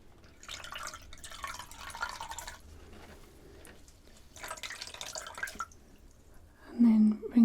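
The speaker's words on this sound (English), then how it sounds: "So I will take one of the cloths and dip it into the water." A cloth is dipped into a container of water, giving soft splashing and trickling drips in separate bursts, then a brief wetter gurgle near the end, quiet and close in a calm indoor setting.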